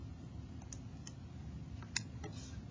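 Sparse, light key presses on a calculator while entering a trigonometry calculation, a handful of soft irregular clicks over a quiet background hum.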